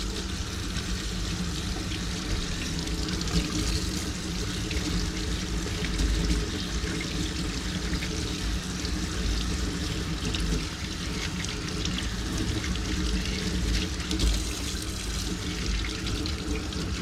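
Water runs steadily from a tap while a scratched CD is rinsed, giving a continuous, moderately loud hiss and splash with no breaks, and no voices over it.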